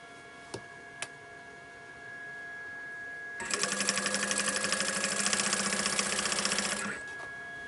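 A sewing machine stitches along a quilted bag strap, a couple of faint clicks first, then a steady rapid mechanical chatter for about three seconds before stopping.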